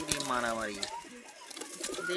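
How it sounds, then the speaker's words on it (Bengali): Pigeons cooing and fluttering in a brief scuffle, wingbeats and calls close by, with a person's voice talking over them. "কবুতরগুলো কি লাগাইছে রে, ওরে মারামারি করতিস কা দুজনে"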